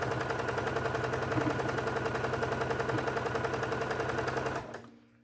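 A sewing machine stitches fabric for a chicken-themed quilt in a steady, fast, close mechanical whir that runs for about four and a half seconds, then stops, leaving near silence.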